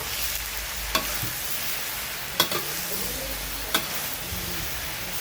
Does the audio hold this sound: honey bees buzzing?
no